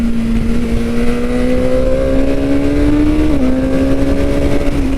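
A 2021 BMW S1000R engine revs loud and close, its tone climbing steadily, dipping briefly at a gear change, then holding high.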